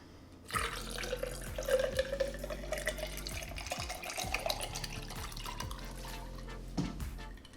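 Water pours steadily into a drink bottle that already holds ice, a continuous splashing fill lasting about seven seconds, close and fairly loud, with no talking.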